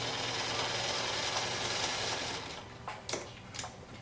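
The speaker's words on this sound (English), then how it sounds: "line up the sewing machine needle on the diagonal line, and sew across to the opposite edge." A sewing machine stitches across fabric squares, running with a fast, steady mechanical whir for over two seconds, then slowing into a few separate clicks and short bursts.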